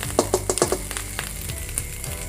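Red curry paste frying in a pan for a spicy stir-fry of long beans with squid: a crackling sizzle with several sharp, close pops at first, settling into a steady hiss.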